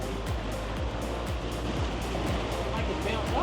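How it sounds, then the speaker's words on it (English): Sea waves slapping against a small boat off southern Malaysia's Johor Bahru coast, with rhythmic repeated thuds over a continuous rushing wash, loud and close. "Not great when you've got waves."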